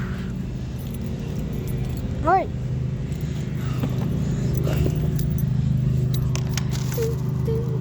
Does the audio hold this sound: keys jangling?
yes